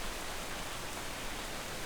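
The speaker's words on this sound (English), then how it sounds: "It's raining, but I have my heavier gear on, so I should be toasty warm out here" Rain falling steadily in the video game Atlas, a dense even hiss of rain with no breaks, moderately loud and alone.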